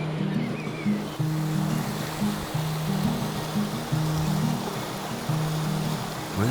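A river in Costa Rica flowing as a steady broad rush of water throughout, with a low repeating musical tone pattern running underneath, no talk.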